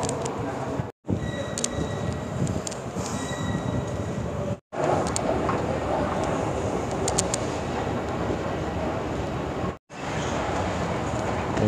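Steady rumble of a metro train running through a station, with wheel noise and brief squeals, and people talking faintly under the din.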